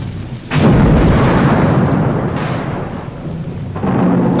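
Heavy rain and rolling thunder in the video game Nightmare Creatures 2, a loud continuous downpour with booming thunder swells surging at the start and again near the end, no voices.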